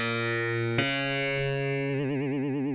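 Electric guitar patch on a Donner StarryKey 37 synth holds a sustained distorted tone, retriggered once, then wavering with modulation wobble toward the end, alone and fairly quiet.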